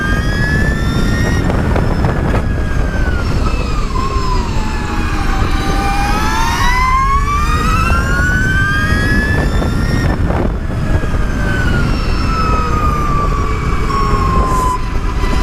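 An Energica EGO electric motorcycle at full throttle gives off a loud, continuous high-pitched whine that sweeps up and down in pitch as speed changes, under steady wind roar.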